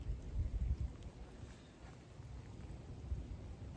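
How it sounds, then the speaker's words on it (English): Low rolling thunder rumbles outdoors as rain begins, loudest in the first second, then settling into a steady, soft wash of rainfall and distant rumble. "Of course, it's going to start raining now."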